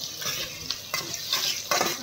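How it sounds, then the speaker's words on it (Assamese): Onions fry in a pan while being stirred, giving a close, bright sizzle that swells in bursts as the spoon pushes them around. "এতিয়া পিঁয়াজ বহাই দিলোঁ, অলপ লাৰি দিলোঁ"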